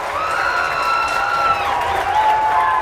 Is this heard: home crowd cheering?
yes